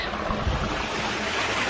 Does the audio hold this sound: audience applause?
no